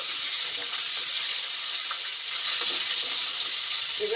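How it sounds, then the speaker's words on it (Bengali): Tomato paste and ginger sizzling loudly in hot oil in a pan for a cauliflower curry, a dense steady hiss throughout with faint stirring. "এবার টমেটো পেস্টটা দিয়ে দিচ্ছি"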